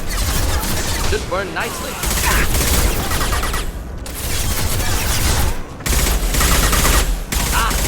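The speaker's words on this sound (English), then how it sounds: "Firing an impact shot." Impact shot weapon fire in the video game Mass Effect 2: repeated loud bursts of gunfire and booming blasts across the clip, with short gaps between volleys and a voice speaking over the combat.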